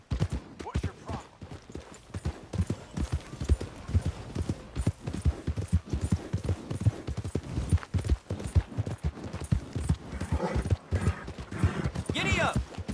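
Horse hooves clip-clop in a steady rhythm while riding in Fortnite, running continuously under frequent speech and game sounds.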